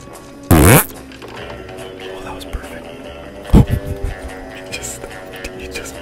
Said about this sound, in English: I want to make a fart sound here.